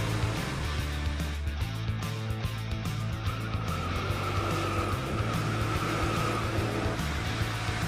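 Race cars, an Audi among them, roar at full throttle in a continuous loud engine drone, with tires squealing and skidding throughout.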